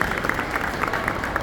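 Short, dense burst of audience applause greeting a guest on stage at a 2023 literary festival, many hands clapping at once.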